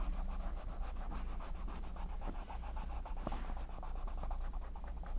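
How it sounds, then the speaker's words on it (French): A pencil colours in red on paper with rapid, rhythmic back-and-forth scratching strokes, steady and close throughout, with no talk. "je le colorie en rouge"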